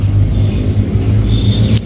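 A Hero Splendor Plus motorcycle engine runs with a steady low rumble throughout, close and fairly loud, with a brief higher whine near the end.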